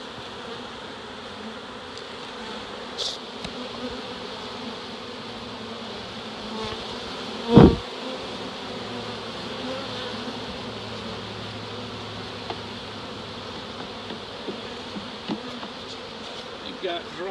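Honeybees buzz steadily around a hive fitted with an excluder-type entrance, a continuous near drone with a brief loud knock partway through.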